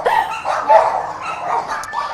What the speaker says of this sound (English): hear the dogs all barking out loud at the same time